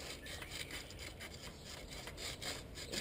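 Emery cloth rubbed by hand around the wheel studs on a Ford Mondeo front brake hub, a steady close scratchy rasp with quick back-and-forth strokes and no talk.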